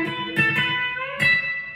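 A few plucked electric guitar notes with a B-bender raising the pitch on the last ones, close and clear, with sharp attacks and ringing sustain and no talk.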